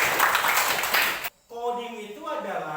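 Classroom applause from a group of students, a dense burst of clapping that stops abruptly, followed after a short gap by a teacher talking.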